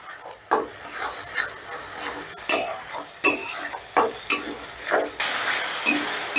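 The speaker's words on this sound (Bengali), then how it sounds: "এবার মশলাটাকে আবারও আমি বেশ ভালো করে কষে নেব" Spice paste of ginger, garlic, onion and tomato sizzles in a pan while a spoon scrapes and stirs it in a steady series of close, distinct strokes, with occasional clinks of utensil against metal.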